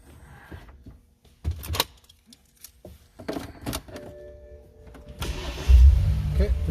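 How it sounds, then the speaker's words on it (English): A few clicks and a door thump, then a 2015 BMW X1 engine cranks and catches, settling into a close, steady idle rumble. "I'm gonna start the car"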